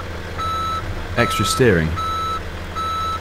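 A truck in Farming Simulator 2017 emits evenly spaced reversing beeps over a low engine rumble, briefly interrupted while someone speaks, then resuming in a steady rhythm.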